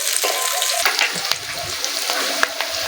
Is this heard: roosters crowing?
no